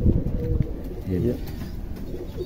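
A high-flyer pigeon held in the hand gives soft, throaty coos in short bursts close by, while people talk over and around the calls.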